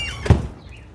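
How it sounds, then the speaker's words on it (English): A house door swings shut with a single dull thunk partway through, followed by quiet room tone, with a dog nearby indoors. "And you'll hear me close the door."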